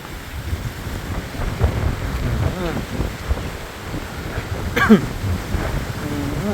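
Strong, dry cold wind buffets the microphone in gusty rumbles around a rice-field hut, with a voice talking faintly underneath.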